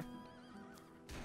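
A horse whinnies loudly in a Wild West outlaw video game, its wavering neigh running over the whole clip with music behind it and a short burst of hoof clatter near the end.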